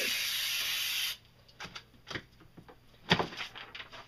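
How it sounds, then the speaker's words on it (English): A sharp aerosol hiss sprays steadily for about a second, then stops, followed by a few faint taps and rustles. "I'm going to spray that as well"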